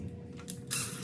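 Short mechanical clicking and ratcheting as a screw is driven into a fan housing, a few quick close bursts growing louder toward the end, with no talk.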